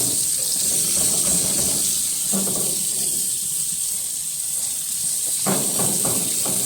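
A New York steak sizzles on a grill, a steady bright hiss that runs throughout, with faint bumps and clatter of handling underneath.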